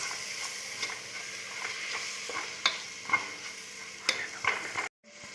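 One kilo of washed chicken pieces goes into a tomato masala for Kerala-style roasted-coconut chicken curry. A steady close sizzle carries scraping stirs and a few sharp pan knocks, then cuts off abruptly near the end.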